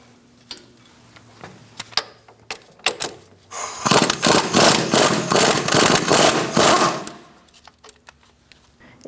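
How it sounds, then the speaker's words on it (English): A ratchet with a 21mm socket loosens strut bolt nuts on a Chevrolet Sonic steering knuckle, starting with scattered clicks and then a loud, rapid ratcheting burst lasting about three seconds before trailing off. "Using a 21mm socket, we're going to remove our nuts for our strut bolts."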